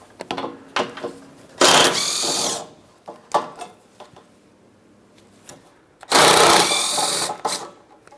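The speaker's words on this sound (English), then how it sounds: "Let's go ahead and remove those bolts." A power tool whirring in two loud, sustained bursts while it removes the front bumper impact absorber bolts on a 2008-2016 Chrysler Town & Country, with clicks and metallic handling noises between the runs.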